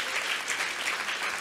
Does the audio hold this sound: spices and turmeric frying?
no